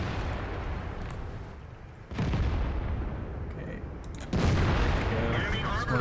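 Artillery fire in the tank game World of Tanks: a steady low rumble broken by two sudden, loud booming impacts that each stay at a higher level afterward, with a player talking over it.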